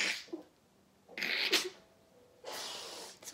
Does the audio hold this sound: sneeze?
yes